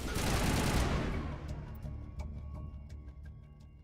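Gunfire in the video game Mass Effect, a loud, dense burst of rapid shots that fades over about a second into scattered ticks and faint impacts.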